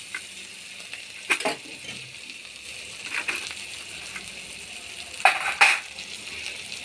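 Tomato, ginger-garlic paste and potatoes fry together for a raw banana kofta curry: a faint sizzle runs beneath a few sharp, close clinks and scrapes of a utensil against the pan, spaced unevenly.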